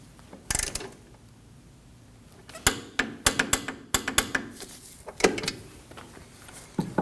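Torque wrench tightening a bolt to 33 foot-pounds on a 2003-2006 Subaru Baja 2.5L H4 during a front CV axle job, sharp metallic ratchet clicks in quick bursts, close and loud, no talking.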